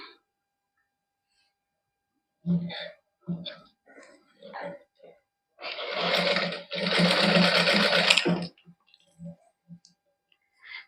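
A sewing machine stitches net lace onto a printed suit, running in two steady close bursts of several seconds each, with speech before and after.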